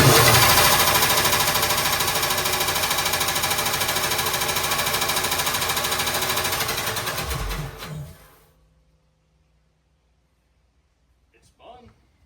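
A cheap $100 belt-driven air compressor runs loud with a rapid mechanical clatter from the start, then shuts off around eight seconds, leaving near silence with a faint brief noise at the end.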